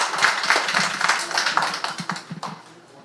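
Applause from attendees at a neighborhood redevelopment briefing, a brief burst of irregular claps close by that tapers off quickly.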